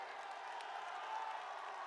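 A crowd at a political rally in a park applauds, producing a faint, distant, steady wash of clapping that stays even throughout its short length.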